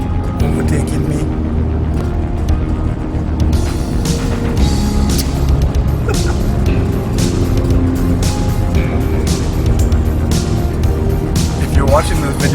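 Car towing a 3-metre trailer on a long road trip, its engine and road noise a loud steady drone inside the cabin with other traffic passing, while a person talks over it.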